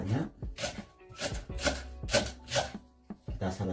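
A knife chops ingredients for salmon fish soup on a cutting board, about nine crisp close thuds at an uneven steady pace, with no talking.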